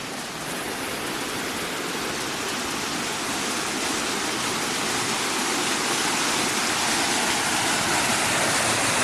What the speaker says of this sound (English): It's like our own private little waterfall.